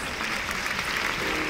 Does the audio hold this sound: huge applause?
yes